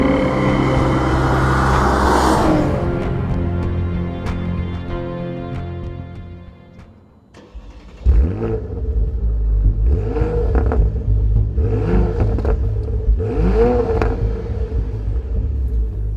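A 2014 Porsche Panamera 4S with a twin-turbo V6 launches: a steady idle rumble builds, cuts out briefly, then the engine surges hard, pulling through several rising rev sweeps broken by quick gear changes.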